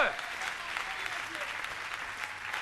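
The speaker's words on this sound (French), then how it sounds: "Applaudir très fort la parole du Seigneur" A congregation applauds the word of the Lord at a religious gathering, a dense, steady wash of clapping from a crowd, moderately loud and continuous throughout.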